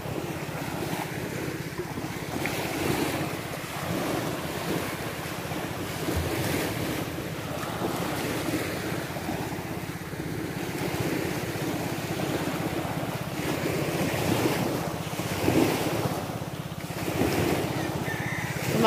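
Waves wash steadily onto Licuason Beach, a white-sand shore with fine sand and pebbles in Mobo, Masbate, under constant gusty wind buffeting the microphone, a low continuous surf rumble with no talking.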